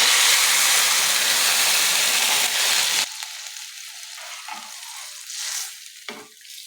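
Water poured into a hot pan of stirred food bursts into a loud, hissing sizzle that cuts off abruptly, leaving a quieter, uneven bubbling and spitting close by.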